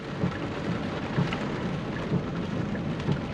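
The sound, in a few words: rain heard from inside Hyundai Kona EV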